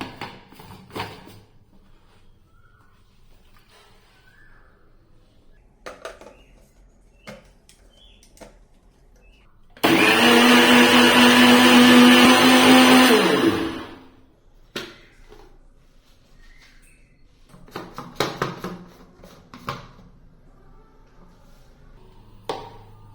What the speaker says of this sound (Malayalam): ഇനി നന്നായിട്ടൊന്ന് ബ്ലെൻഡ് ചെയ്തെടുക്കാം